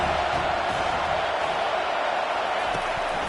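A stadium crowd roars in the Madden football video game, a steady, even wash of cheering and noise that holds without breaks throughout.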